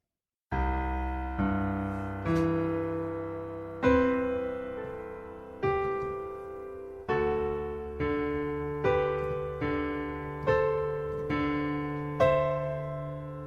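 Solo piano playing the intro of a song, a slow, steady sequence of chords and notes, each struck and left to decay, soft and unaccompanied.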